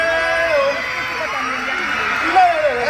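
A festival crowd at a town celebration in Balaguer shouts and cheers together in a sustained, loud wash of voices, with a louder surge near the end.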